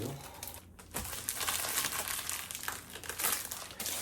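Plastic packaging around a yoga mat is torn open and handled up close, making continuous loud crinkling and crumpling with a few sharper rips.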